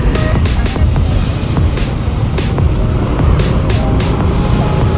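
Dense road noise from a traffic jam in Bali at night, heard from a moving motorcycle: a steady, loud rumble of engines and tyres with wind roar and no pauses.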